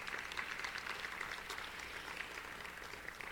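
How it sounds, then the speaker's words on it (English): Steady applause from a ceremony audience honouring staff at a hall of fame event, a dense even patter of many hands sustained throughout, moderately distant and fairly quiet. "So if you give them a round of applause for their help."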